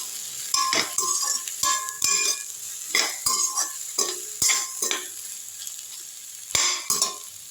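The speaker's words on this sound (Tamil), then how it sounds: "கொஞ்சமாக கொத்தமல்லி போட்டுக்கலாம் நல்லா வதக்கி விட்டுடலாம்" Chicken sautés with a little coriander in a pan for a Chettinad-style chicken thokku with horse gram greens, a steady sizzle broken by repeated rhythmic spatula scrapes and clinks against the pan, close up.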